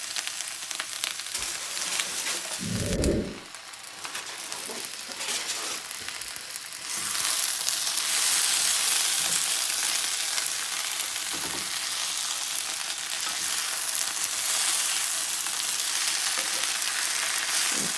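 Potatoes and onions fry in a covered pan, giving a steady, dense sizzle with a brief low clunk early on, growing louder and brighter partway through and continuing without talk.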